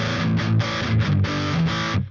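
A distorted electric guitar plays through a NAM amp simulator with the compressor off. Loud, close chugging chords come in several bursts with short gaps and end abruptly.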